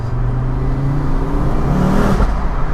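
A Ford Focus RS engine revs loudly and steadily, its deep drone rising in pitch, with a boomy, enclosed echo inside a tunnel.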